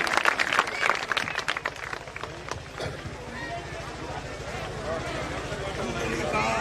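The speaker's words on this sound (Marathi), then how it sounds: "एक वेळा सर्वांनी त्यांची टाळी वाजून अभिनंदन करायचं." Audience at a Datta Jayanti kirtan clapping in congratulation, a burst of brisk applause up front that thins into a softer, steady rhythmic patter, moderately distant, with voices in the hall.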